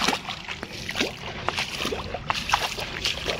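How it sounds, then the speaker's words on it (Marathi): Irrigation water runs across a farm field with close sloshing and gurgling and uneven splashes, a continuous watery rush throughout. "हे बघा आता किती पाणी चालू."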